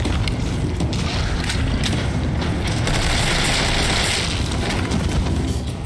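A zombie exploding in the video game Resident Evil 3 Remake: a loud, dense, sustained blast of roaring noise lasting several seconds with rattling, crackling debris throughout and no voices.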